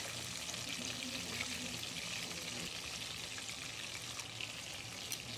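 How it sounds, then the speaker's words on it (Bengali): Chicken pieces fry in oil for restaurant-style fried chicken, giving a faint, steady, even hiss of bubbling oil heard close and alone, with no talk. "এভাবেই চিকেন ফ্রাইগুলো এপাশ ওপাশ করে 6 থেকে 7 মিনিট পর পর উল্টিয়ে পাল্টিয়ে নিব।"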